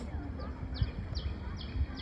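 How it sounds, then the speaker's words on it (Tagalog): Small birds by Jurong Lake in Singapore give a run of about five quick, high chirps at a moderate distance, with soft talking and low outdoor rumble underneath. "Ayan may ibon."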